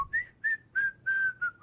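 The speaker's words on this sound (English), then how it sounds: "I always whistle." A man whistles a short tune of five clear sustained notes, close and fairly loud, with brief gaps between notes and no talking.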